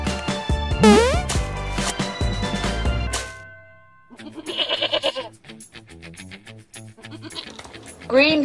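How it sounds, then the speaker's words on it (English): Toy goat bleats over bright electronic children's music, a wavering bleat near the start and another at the end, loud and close with no talk. "Goat."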